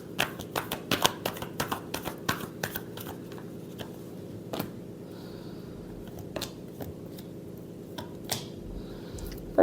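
A deck of cards being shuffled close by, a quick run of crisp riffling snaps early on, then softer scattered flicks and taps as the cards settle.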